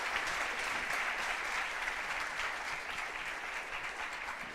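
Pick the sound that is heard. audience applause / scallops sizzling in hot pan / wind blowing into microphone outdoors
audience applause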